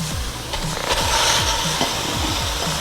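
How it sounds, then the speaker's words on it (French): Ground beef browning in a pan for a Sonic-style chili dog, a steady loud sizzle with repeated scraping strokes of a spoon or spatula stirring the meat, no voices. "Ensuite, on va faire revenir notre bœuf haché."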